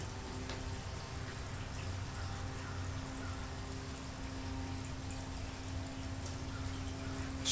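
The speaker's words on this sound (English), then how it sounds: "Squish all the water out of it." Water squeezed out of a sponge trickles and drips softly in a faint, steady patter, with no voices over it.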